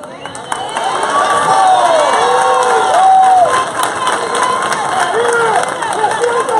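A large crowd at a political rally in San Andrés Islas, Colombia, shouts and cheers loudly and continuously, with many overlapping voices raised together.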